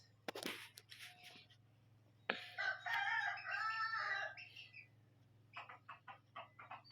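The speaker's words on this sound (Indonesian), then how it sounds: "Oh, pitike. Golek pakan." A rooster crows once, loud and close, amid chickens scratching for feed, with sharp clucks and short calls before and after the crow in a quiet rural yard.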